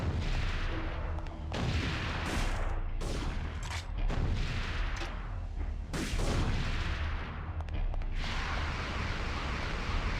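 Dense, loud video-game gunfire from Parasite Eve 2, with shots and bursts running almost continuously in sustained volleys and brief pauses, and no talking.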